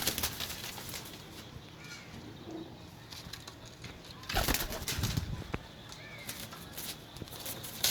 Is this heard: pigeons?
yes